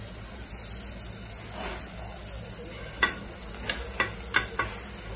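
Besan pithla ingredients fry quietly in a pan with a steady low sizzle, while a spoon stirs and scrapes against the metal in a few sharp clinks toward the end; no one speaks.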